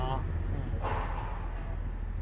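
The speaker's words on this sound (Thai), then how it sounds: "เมื่อกี้มอเตอร์ไซค์คันนี้ผ่านเขาเห่า" A dog barks at a motorcycle passing on a street, giving a short bark near the start over steady low background rumble while someone talks.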